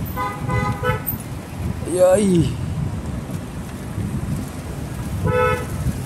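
Car horns toot in heavy traffic: a loud honk at the start, a sharp wavering horn blast near the middle, and another honk at the end, over steady road and engine noise. A voice speaks briefly.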